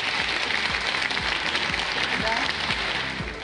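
Studio audience applause during a Soviet-era television talk show, a dense, steady wash of many hands clapping that fills the whole stretch at a loud, even level.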